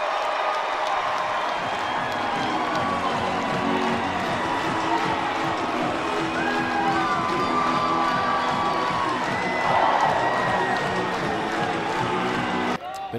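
A college baseball crowd roars for a Tennessee grand slam against Georgia, sustained loud cheering and shouting with applause and whistles across a packed stadium, a commentator's voice speaking over it.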